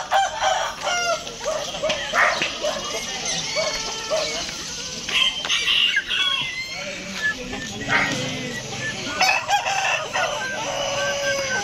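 Roosters crowing repeatedly at a crowded chicken expo showing Shamo and other breeds, several calls overlapping with clucking hens, a dog barking and steady crowd chatter throughout.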